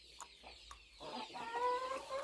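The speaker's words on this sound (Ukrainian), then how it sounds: "Там кури сидять." Chickens cluck close by, first in short separate clucks, then in a longer drawn-out clucking call.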